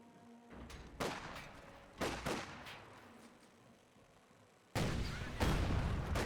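Bursts of rifle gunfire from rifle squads in Age of Empires IV crack out at intervals, with a heavier sustained volley near the end, all in a battle soundscape without talk.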